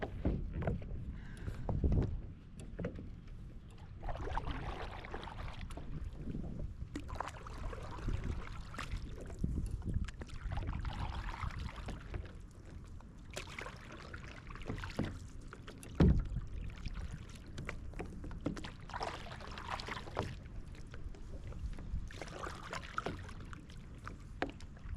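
Paddle strokes on water from a homemade fishing paddle board, soft irregular splashes and dips repeating over quiet wind noise, fairly faint and close to the microphone.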